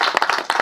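An audience at the promo launch of the reality dance show Nachega India claps for the team, a brief burst of several quick, close handclaps in an uneven rhythm.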